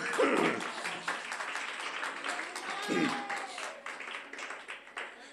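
A church congregation applauds during a Spanish-language sermon, a dense wash of clapping throughout, with a voice calling out briefly under it and the claps thinning toward the end.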